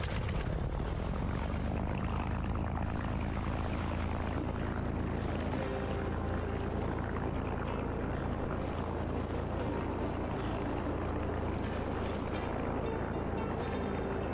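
In a video game, an airplane taxis with its propeller engine droning loud and constant, a dense rumble that holds unchanged throughout.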